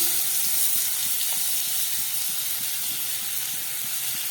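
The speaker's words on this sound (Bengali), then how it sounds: "আমি যে টিফিন রোলটা তৈরি করব তার জন্য আমি কিছুটা আলু ভেজে নিচ্ছি" Potatoes frying in a pan for a vegetable tiffin roll, a loud, steady broadband hiss of hot oil that stays constant, with a faint regular low ticking underneath and no speech.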